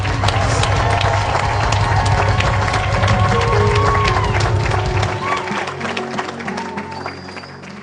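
A congregation at a church birthday celebration acclaims and cheers, a dense, loud crowd roar with scattered voices that drops somewhat after about five seconds but carries on to the end.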